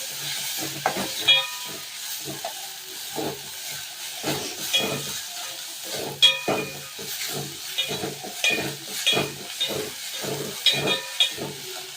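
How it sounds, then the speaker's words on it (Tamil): Crushed thuthuvalai (Solanum trilobatum) greens sautéing in a pan, a soft steady sizzle broken by frequent scraping stirs and clinks of a spatula, close and without speech. "அதையும் நம்ம பச்சை வாசனை போகிற வரைக்கும் நல்லா வதக்கணும்."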